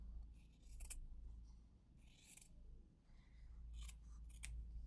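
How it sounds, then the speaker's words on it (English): Scissors snip through a strip of green fabric several times, crisp close cuts coming in short bursts over a low steady background hum. "So I'm going to cut another strip"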